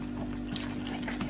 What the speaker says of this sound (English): Now we shall proceed to pour it in to the flour well that we created earlier